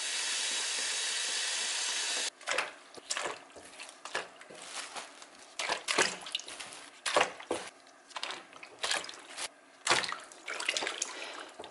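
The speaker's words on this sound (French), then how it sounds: "je vais rincer un peu les artichauts pour noyer les insectes potentiels" Water runs into a bowl of artichokes being rinsed in a home kitchen, a steady broadband hiss at first that gives way to uneven splashing and dripping as the flow is broken up by the vegetables.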